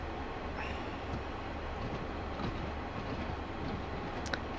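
A video game train rolls by at a distance, a soft steady rumble with faint rail clatter and a brief high squeal near the end.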